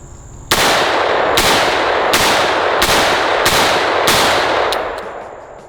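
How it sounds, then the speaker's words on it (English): A surplus Zastava revolver fires .357 Magnum rounds, six sharp, loud, evenly spaced shots with ringing decay that blurs between them, heard close at an outdoor range. "Now let's shoot 357, and you guys should be able to see not only sound difference, but also the recoil difference."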